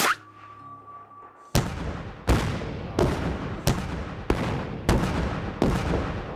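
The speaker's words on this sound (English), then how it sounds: "catch a real avalanche control operation on this highway in southern Colorado" Artillery fire for avalanche control on a southern Colorado highway: after a steady tone, six loud booming blasts arrive at regular intervals, each with a long rolling echo fading across the snowy slopes.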